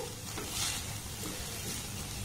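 Semolina and milk powder mixture being stirred in a pan over a low gas flame, a soft scraping stir with faint sizzle, steady and close, no talk.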